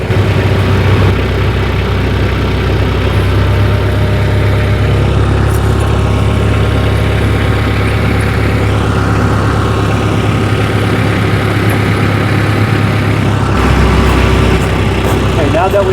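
A tractor engine runs steadily while creeping forward during installation of pewag Doppelspur winter tire chains, a loud continuous low rumble that holds level throughout and eases briefly near the end.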